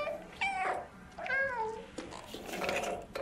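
A startled cat in the game Stray lets out several drawn-out, wavering meows and yowls, close and fairly loud, separated by short pauses.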